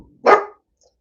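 A dog gives a single sharp, close bark at people walking past on their way to the pub, and then it goes quiet.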